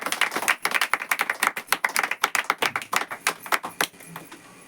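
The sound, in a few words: congregation clapping loudly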